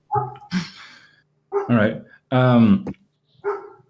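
Dogs bark in a handful of short bursts spaced across a few seconds, fairly close and loud, mixed in with a person speaking briefly.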